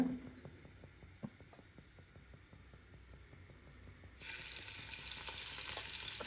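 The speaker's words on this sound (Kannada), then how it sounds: "ಈಗ ಪ್ರಾನ್ಸ್ ಫ್ರೈ ಮಾಡ್ಕೊಳ್ಳೋಣ ಅಂತ." Prawns frying in hot oil over a medium flame produce a quiet crackling sizzle with light ticks and scrapes that swells into a louder, brighter hiss partway through, no voices.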